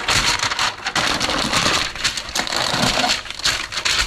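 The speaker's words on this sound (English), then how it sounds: "I'm going to use this parchment and aluminium foil combo." Parchment paper and aluminium foil crinkle and crackle as they are handled close up while a roast pork is prepared, making a dense, continuous rustling with sharp crunchy bursts.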